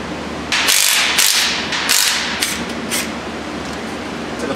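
Bursts of an impact wrench on the 14 mm drive shaft bolts of a Honda Pilot, several loud rattling hammering spurts in quick succession, close and harsh over a noisy garage background.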